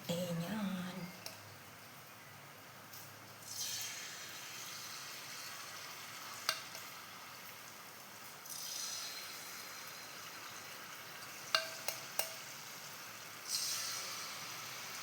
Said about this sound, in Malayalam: വെളിച്ചെണ്ണയിൽ തന്നെയാണ് ഞാൻ ചുട്ടുകൊണ്ടിരിക്കുന്നത്.